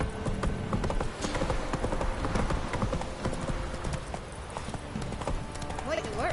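Hooves of a horse in The Witcher 3 video game clop in a quick, steady galloping rhythm, close and fairly loud, with game characters talking over them and background music.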